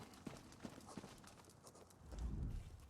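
Horse hooves clip-clopping in The Elder Scrolls Online, a faint, evenly spaced run of hoof strikes followed by a low rumble near the end.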